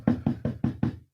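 Five firm knocks on a door in an even, quick rhythm, each a close, resonant thud with a short decay, then silence.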